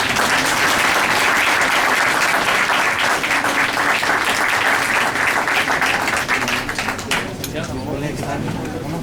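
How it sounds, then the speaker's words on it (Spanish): A conference audience at a forensic sciences event gives loud, sustained applause for an award presentation, dense clapping filling the whole stretch and thinning slightly near the end, with some voices mixed in. "Denle un fuerte aplauso."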